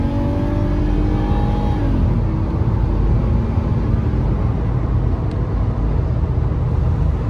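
A Mercedes with the M103 engine accelerating hard on a freeway, heard from inside as a loud, continuous engine drone with rising tones over heavy road and wind roar.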